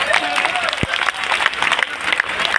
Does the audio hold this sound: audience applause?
yes